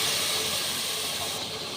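Spices hiss and sizzle steadily in hot oil with browned fried onions in a home kitchen pan, a loud, even frying crackle that softens slightly toward the end.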